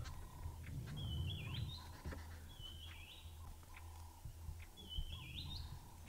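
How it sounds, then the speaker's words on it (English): Several birds, babblers and yellow-billed hornbills, call in the dawn chorus over a low outdoor hum, with repeated rising whistled chirps and scattered chatter, moderately distant, no voices. "lots of birds here. Babblers, yellow-billed hornbills,"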